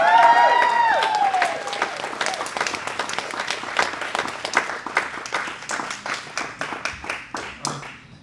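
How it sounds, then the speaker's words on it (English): An audience applauds the performer at a jazz tribute concert, starting loud and full over a fading musical tone, then thinning into scattered separate claps that slowly die away. "Let's give a big round of applause"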